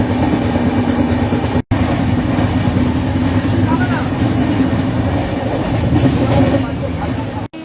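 An express passenger train, Howrah to New Jalpaiguri, rumbles steadily along with a continuous low roar and faint rhythmic clatter, loud and close from inside the coach, with voices faintly mixed in.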